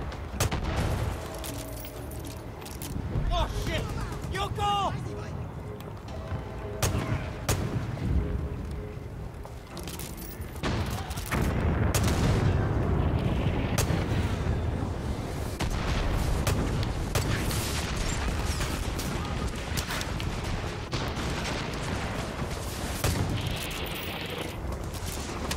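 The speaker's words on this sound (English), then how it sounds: "They got mortars." Mortar fire during a jungle battle in the video game Far Cry 5: repeated booms and crackling gunfire spread across a long, busy stretch, fairly distant and layered with mechanical clatter.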